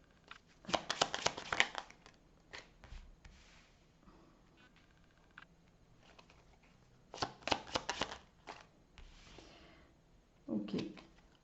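Tarot cards shuffled and drawn in close, quiet bursts of riffling and flicking separated by pauses, with a soft voice at the end.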